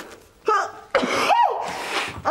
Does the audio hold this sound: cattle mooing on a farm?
no